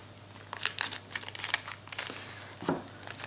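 A Pokémon booster pack wrapper is cut and pulled open close up, giving a run of soft, uneven crinkles and crackles of foil plastic with brief quiet gaps between bursts.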